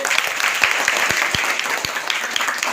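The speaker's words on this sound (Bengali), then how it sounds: "সবাই একটা করতালি জোরে।" A classroom of pupils claps for a group leader, giving a dense, steady burst of many hands close by, with a few sharper individual claps standing out and no talk over it.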